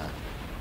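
A heavy naval gun salvo booms from a ship in World of Warships, a short deep rumbling blast filling the whole moment with low-end roar, loud and close.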